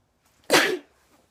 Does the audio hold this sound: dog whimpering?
no